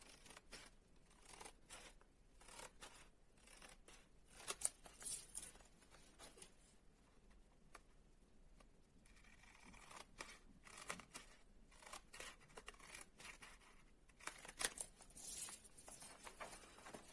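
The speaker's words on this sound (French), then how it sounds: "À l'aide de notre paire de ciseaux, nous allons donc couper sur le trait que nous venons de réaliser." A pair of scissors cuts paper along a drawn line while a soft gift box is being made, giving a quiet, close run of irregular snips and crisp rustles with no talking.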